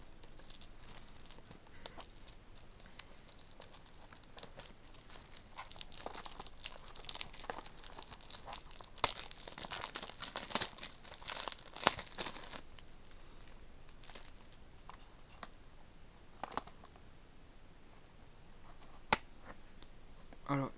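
A video game box being unwrapped and opened, with faint crinkling plastic, soft rustles and scattered small clicks and snaps spread through a quiet stretch, a few sharper ticks near the end.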